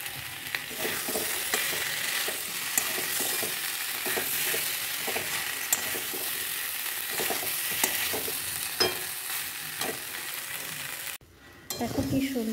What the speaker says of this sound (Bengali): কড়াইটা বসিয়ে দিয়েছি, এখন মাংসটা করে নিই।